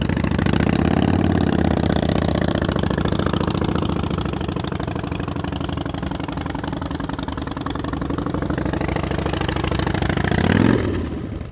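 A motorcycle engine held at low throttle during slow-speed riding practice in North Carolina, a steady close drone with slight rises and falls before easing off near the end.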